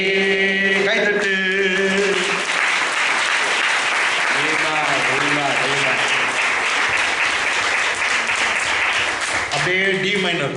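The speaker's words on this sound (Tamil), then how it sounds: "கைதட்டு." A church congregation claps along to a fast Tamil worship song at a Palm Sunday service, the steady rhythmic applause loud and continuous under singing and music.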